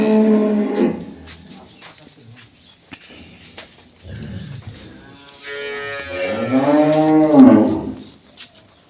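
Dairy cows and calves of an improved breed moo repeatedly at an agro farm, with a long, loud bellow rising near the end among quieter lows and farm background noise.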